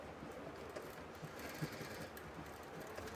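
A sewing machine stitching cloth while a garment zipper is sewn, a faint, steady mechanical whir with fine rapid ticking, quiet and continuous without talk.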